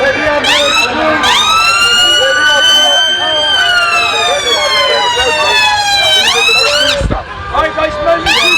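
An ambulance siren wails loudly and close, its rising and falling tones sweeping repeatedly through a protest crowd, with voices audible underneath.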